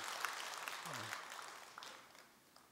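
A temple congregation at a Sunday dharma talk at Jogyesa claps briefly, a soft, distant patter of applause that tapers off within a couple of seconds.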